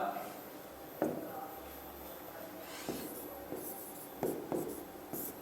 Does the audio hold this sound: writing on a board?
yes